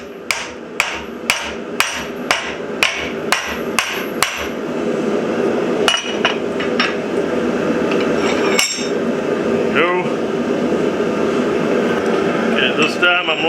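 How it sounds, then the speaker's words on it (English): A hammer strikes a steel bar clamped in a vise to bend it for a blacksmith-made courting candle, about ten sharp ringing blows in quick rhythm, then a few scattered hits over a steady background hum. "so clearly we'll use a hammer"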